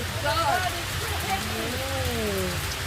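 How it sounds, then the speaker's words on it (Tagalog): Heavy rain falls in London, a steady hiss of rain on surfaces with faint background tones and no speech. "Nakita niyo mo sa kakusog sa ulan."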